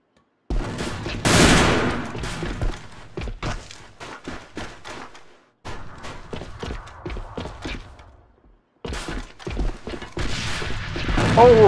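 Rapid gunfire and a grenade blast in the first-person shooter AVA, with dense bursts of shots in several loud volleys broken by short pauses and a heavy burst near the start.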